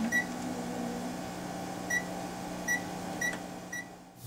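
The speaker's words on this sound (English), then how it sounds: "we'll be boiling this solution in the microwave" A steady low hum of a running microwave oven boiling an agarose solution, with a constant drone and faint periodic high tones over it, close by and even throughout.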